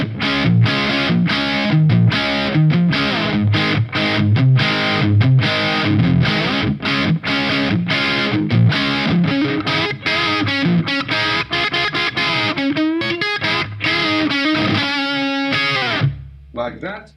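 An electric guitar plays through the clean channel of a Marshall Silver Jubilee 2555X amplifier pushed into distorted overdrive, giving a loud, continuous run of chords and notes that stops abruptly near the end.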